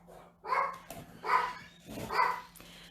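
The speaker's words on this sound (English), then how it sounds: "Now all of them are going to bark." Several indoor dogs bark in three loud, evenly spaced bursts, fairly close, with a faint hum behind them and no talking.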